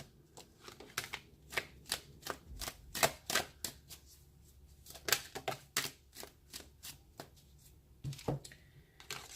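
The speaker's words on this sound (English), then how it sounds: "Alright, one more shuffle." Tarot cards being shuffled in repeated quick riffles and flutters, crisp papery bursts, close and fairly loud, with short pauses between bursts and no talking.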